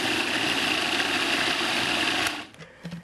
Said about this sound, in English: I'm just going to whirl this up until it's nice and creamy